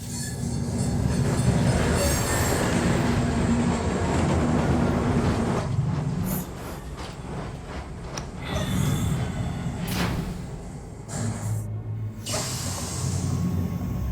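A train running on rails in a film scene, a steady rumbling roll with clicking wheels and some hiss. The sound shifts and thins midway, with brief squeal-like bursts toward the end, and no talk over it.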